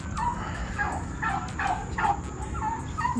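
Several turkeys gobble in quick, rattling bursts over a constant background rumble, with the calls overlapping at moderate distance.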